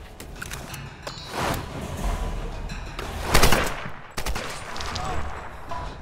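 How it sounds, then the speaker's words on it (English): Gunfire in Tomb Raider, bursts of rapid shots and sharp single cracks scattered over several seconds, with one louder volley in the middle and game ambience between. "I guess I'll just start shooting you."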